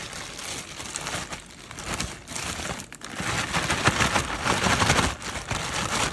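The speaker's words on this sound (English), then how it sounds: "For more even coating, do the lobster pieces in small batches in a plastic bag." Lobster pieces get shaken in small batches inside a plastic bag for a coating, giving a close, continuous crinkling and rustling of plastic with soft pauses and no talking.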